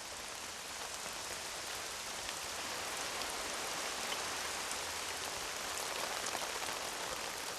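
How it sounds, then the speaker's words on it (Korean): Heavy raindrops fall at a construction site where a steel-pipe glamping house is being built, making a dense, steady hiss of rain hitting surfaces that holds evenly throughout. "이내 예상대로 굵은 빗방울이 내리기 시작한다."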